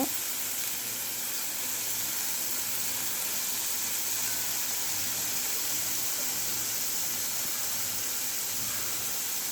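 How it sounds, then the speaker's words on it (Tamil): Chopped onion and tomato sauté in oil on a hot tawa, giving a steady, even sizzle and hiss that runs unbroken from start to finish with no voices over it. "ஆனியன், டொமேட்டோ இதெல்லாம் அதில் ஸ்மாலாக கட் பண்ணி வதக்கிக்கோங்க."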